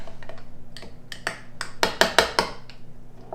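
Tartar sauce being mixed in a bowl with a utensil, a run of sharp close clicks and scrapes against the bowl, growing louder and quicker toward the middle before easing off.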